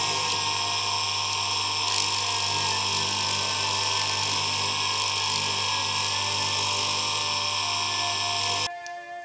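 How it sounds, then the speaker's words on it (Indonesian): A rotary tool sands the inside of a handmade brass ring with 220 grit sandpaper, giving off a loud, steady motor whine with gritty rubbing that runs continuously and cuts off abruptly near the end. "Kita mulai dengan amplas 220"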